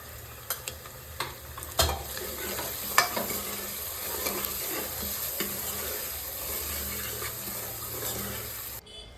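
Onions frying in a pan for mutton curry sizzle steadily, with scattered sharp clicks and scrapes of stirring over a continuous hiss; no talking.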